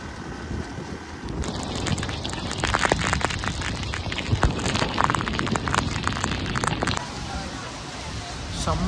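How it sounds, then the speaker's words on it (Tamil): Heavy rain falls near a waterfall on a ride in Karnataka, a dense, continuous hiss and patter close to the microphone with gusty wind buffeting, and people talk over it. "செம்மையா மழை பெய்யுதுரா."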